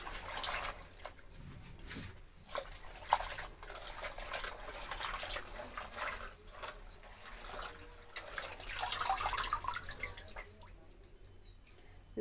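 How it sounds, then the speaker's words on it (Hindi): Water splashes and drips steadily in a bucket as mustard greens and bathua are swished and rinsed, with soft trickling throughout, fairly close. "बाल्टी में हम साफ पानी ले लिया है और सब्जी के हम डाल के धो लेते हैं"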